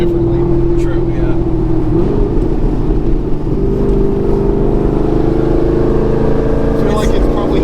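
Chevrolet Corvette C6 Z06 engine droning loudly while driving, its pitch dipping and then climbing again as the revs change, with people talking inside the car over the rumble.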